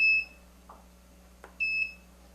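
A quilting machine beeps when marking the corners of a quilt block: two sharp, high electronic tones, one at the start and one near the end, with small clicks between them over a low, steady hum.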